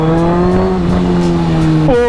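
Loud superbike engine held at a steady high-pitched drone while being ridden, harmonics sliding slightly then dropping sharply as the revs fall near the end; no talking.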